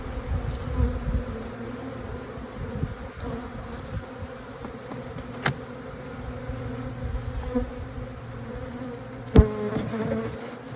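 Honey bees buzz steadily around an opened hive as it is split into several colonies, a dense low drone throughout with a few sharp knocks and clicks from frames being handled.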